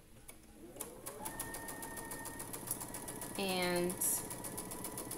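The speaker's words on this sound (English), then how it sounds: "now I'm going to sew the lines on the other side" A sewing machine stitches quilt block fabric for pinwheel blocks in a steady, whirring hum with fast needle ticking, running close and continuous while someone speaks briefly over it.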